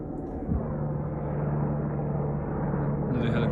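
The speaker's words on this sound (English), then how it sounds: "another helicopter, whatever, I'm talking over it." A helicopter passes overhead as a steady, droning engine rumble. The noise swells slightly and holds at moderate loudness throughout.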